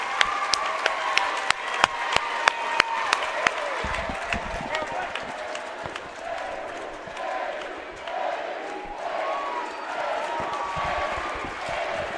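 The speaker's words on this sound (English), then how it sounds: "A standing ovation from the crowd." A basketball crowd at a girls' varsity playoff game gives a standing ovation, sharp distinct claps at first giving way to a dense wash of applause and cheering, with a commentator talking over it.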